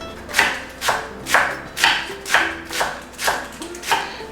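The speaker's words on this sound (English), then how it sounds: "Roll a few of these leaves and then thinly slice them." A knife cuts thinly through rolled crisp iceberg lettuce leaves on a board. It gives eight evenly spaced, crunchy chops about half a second apart, close and clear, with no talking.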